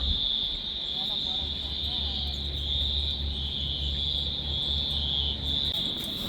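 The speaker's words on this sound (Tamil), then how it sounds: "தவளை சவுண்டை பாருங்கள்" A dense, continuous chorus of frogs croaking after rain pulses low beneath a steady high trilling drone, loud and close with no pauses.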